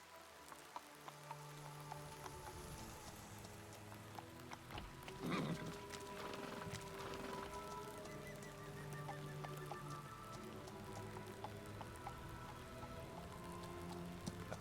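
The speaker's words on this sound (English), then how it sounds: "We must find a shelter from rain and wind." Steady rain in a video game patters across surfaces with a constant hiss, a few sharper drops and faint honk-like tones mixed in, continuous throughout.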